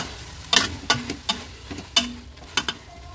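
Sharp scraping and clacking strokes of a utensil stirring hotdogs in a pan, about seven irregular hits over a low, steady sizzle.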